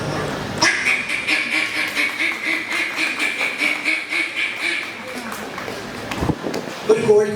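A performer vocally imitates a duck, producing a long run of nasal, rhythmic quacks close and loud, ending with a few louder honking calls.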